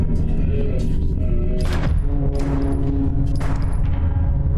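Gunfire in the realistic body-cam horror game Deppart, a loud rapid volley of shots with booming thuds and rumble throughout, and no talk over it.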